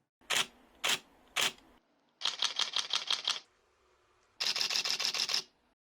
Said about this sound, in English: The D780's shutter sounds snappier, like the shutters in the D800 series and the D5.